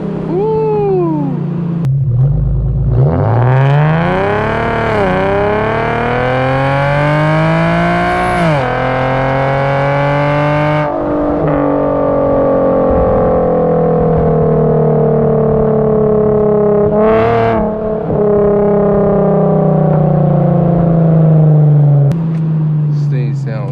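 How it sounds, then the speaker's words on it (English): An Infiniti G37x exhaust fitted with a Vibrant resonator and muffler delete revs up and down during a drive: loud, rising and falling engine sweeps with throaty drone between pulls, close up, and a voice comes in briefly. "I love this vibrant resonator and muffler delete."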